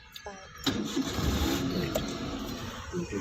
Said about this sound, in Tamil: என்ஜின் ஸ்டார்ட் பண்ணு, ஸ்டார்ட் பண்ணு